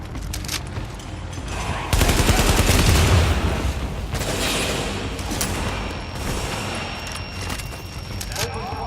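Gunfire in the video game Tom Clancy's The Division, dense bursts of rapid shots and booms that rise to a loud sustained volley, with voices shouting over the fighting.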